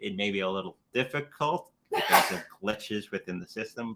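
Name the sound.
sneeze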